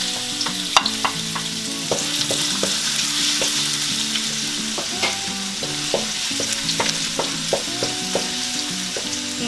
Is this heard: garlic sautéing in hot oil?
yes